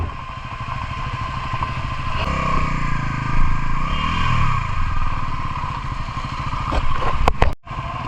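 A motorcycle engine runs loud and close during a monsoon ride, holding a steady throb, then revving up briefly near the end, followed by a few sharp clattering knocks and a sudden dip.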